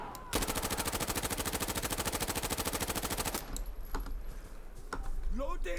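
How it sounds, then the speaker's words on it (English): A submachine gun with an ACOG scope fires one long, rapid automatic burst at range in the video game Insurgency Sandstorm. The shots are loud and evenly spaced for about three seconds, followed by quieter game sounds. "Long range shot there, I probably hit all those shots."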